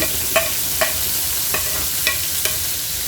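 Garlic, onion and tomato fry in a pan with a steady broadband sizzle, broken by several brief stirring scrapes spaced roughly half a second apart; no voices.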